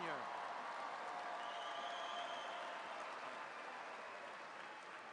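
Sustained applause from a large audience at a Virginia Tech graduate school commencement ceremony, dense steady clapping filling the hall and slowly easing off, with a voice briefly audible at the start.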